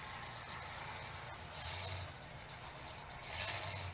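Derby race car motor at a Southern Showdown event in Brooksville, Florida, a rough, throaty engine rumble heard from a distance under crowd ambience, swelling in two brief louder bursts.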